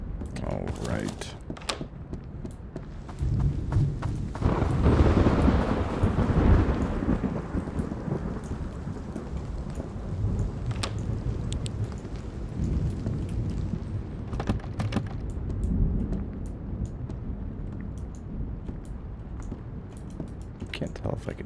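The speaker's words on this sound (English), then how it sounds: "Here comes the rain." Rain falls steadily in a video game while low rumbles of thunder roll through, with clicking and occasional talk mixed in the background.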